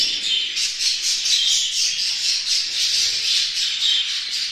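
A parrot squawks repeatedly in loud, harsh bursts during pairing with a mate, the calls close and steady with no voices.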